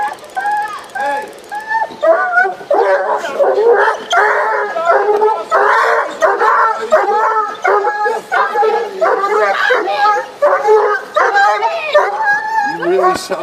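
A dog barks, yelps and whimpers in rapid, agitated bursts at close range during a police bodycam encounter, the cries rising into howling whines and continuing almost without pause.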